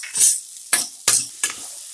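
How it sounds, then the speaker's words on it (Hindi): Boiled chickpeas are stirred in a hot pan over high flame, giving four distinct scraping, sizzling strokes in an uneven rhythm, loud and close, with fading hiss between them. "हम इसे सौते कर रहे हैं"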